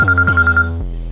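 Phone ringtone in a Hindi romantic drama scene, a close, loud electronic ring with a rapid warbling pulse and a low tone that shifts once before the sound drops away.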